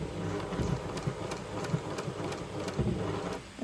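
Domestic sewing machine running a 3-step zigzag stitch on fabric for homemade underwear, a steady mechanical whir with rhythmic ticking pulses, fairly close and moderate in level, with no talk.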